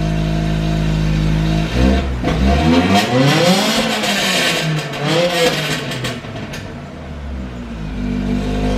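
A project car engine idles loudly, then revs hard up through its power band in repeated rising and falling sweeps before dropping back to a rumbling idle, close and without talk.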